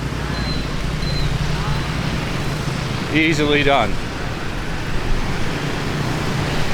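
Rush-hour street traffic in Vietnam, a dense continuous wash of engine and road noise with a short horn blast in the middle and a person speaking briefly.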